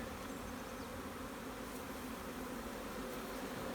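A steady, dense hum of many honey bees buzzing together, continuous and even throughout with no voices.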